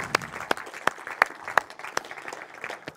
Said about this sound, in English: So just one great round of applause,